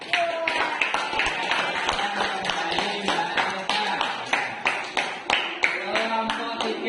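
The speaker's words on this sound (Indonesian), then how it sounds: "kita beri tepuk tangan untuk kelompok 2" Classroom of students clapping for a presenting group, a loose, uneven run of hand claps that settles into rhythmic bursts, near and moderately loud, with voices mixed in.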